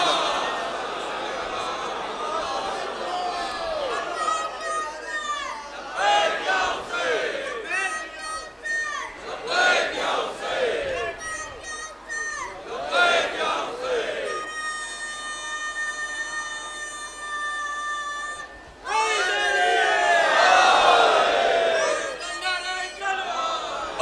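A large crowd loudly recites salawat in unison, the massed voices rising and falling in rhythmic waves over a long stretch. A sustained tonal drone cuts in briefly partway through, and then the chanting swells louder again.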